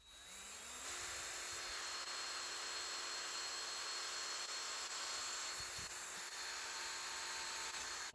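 A drill bit grinds steadily into metal at a punched divot while fitting a 100cc/80cc engine kit to a bicycle, a loud continuous whine holding for several seconds with no talking.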